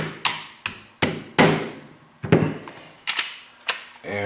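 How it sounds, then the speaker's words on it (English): Sharp hammer taps drive the trigger group pin into a Mossberg TR500 shotgun during reassembly, about nine separate metallic knocks in an irregular rhythm, close and clear with nothing else heard. "Hammer."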